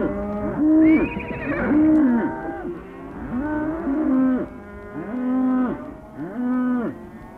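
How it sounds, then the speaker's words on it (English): Cattle in Australia's Northern Territory moo repeatedly, about six drawn-out calls overlapping from several animals at moderate distance, with no talk. "help to tend the million or so head of cattle that graze across the hundreds of miles of the Northern"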